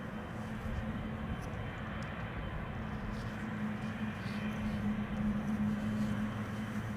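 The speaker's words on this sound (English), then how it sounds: "Air Baltic is going to taxi to the runway threshold" An Air Baltic airliner taxiing toward the runway threshold at Amsterdam Schiphol, a steady low engine drone with a sustained hum, moderately distant and unbroken throughout.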